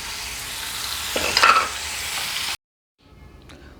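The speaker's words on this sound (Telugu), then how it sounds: "వేసేసి అన్నీ కలిపి వేయించుకుందాం." Onions sizzle frying in a pan with scraping stir strokes, a louder burst midway, then a brief gap before the sizzle resumes faintly.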